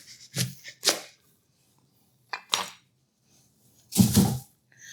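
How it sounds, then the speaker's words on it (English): A knife slices the ends off leeks on a cutting board, producing four short, crisp, crunchy cuts separated by pauses of silence, close and fairly loud, with the last cut longest. "Cut that end off. We're going to cut it about there."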